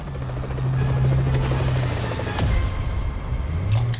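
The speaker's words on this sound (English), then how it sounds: "Alright, we've got to pull this police chopper down." A police helicopter in the Spider-Man PS4 video game whirs close and loud, its rotor drone steady under a fast, continuous chop, with a brief thud midway and no speech.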